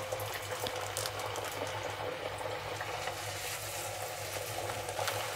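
Masala lentil crisp dough frying in hot oil, a steady dense bubbling hiss that holds evenly from start to finish, close and unbroken, with no talking.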